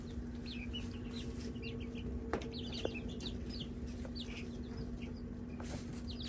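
Silkie chicks cheep in a busy chorus of rapid high peeps and soft clucks over a constant low hum from a heat lamp setup, with a couple of faint knocks.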